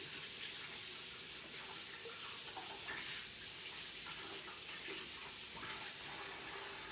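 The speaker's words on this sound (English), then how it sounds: "I'm going to rinse my hands off because I have sourdough starter on them" Hands sticky with sourdough starter are rinsed under a running kitchen tap, a steady close hiss of flowing water with soft splashing shifts as the hands move through the stream.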